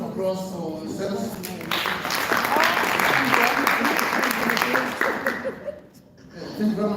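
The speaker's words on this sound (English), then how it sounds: "A big round of applause for Zenos." Audience applause follows a presentation at a department strategy meeting, moderate and steady clapping with a little laughter, easing off briefly near the end; a voice talks near the start.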